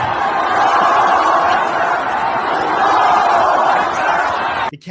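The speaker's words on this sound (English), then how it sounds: "the crowd goes wild and goes Allahu Akbar, Allahu Akbar." A crowd at an Iranian political rally roaring in a loud, continuous wall of cheering and shouting voices, steady throughout and cutting off abruptly at the end.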